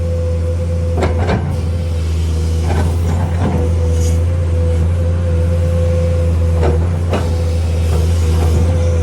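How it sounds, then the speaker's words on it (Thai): Six-cylinder 165 hp engine idling at reduced revs, a steady low rumble with a constant hum throughout, punctuated by a few brief knocks and clanks nearby. "ฟังเสียงครับ เสียงเครื่องยนต์กระดึ้มครับ"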